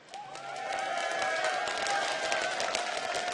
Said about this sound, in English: ladies and gentlemen, if you want to see Azubu Frost take 2-0, taking SK Gaming, give them a cheer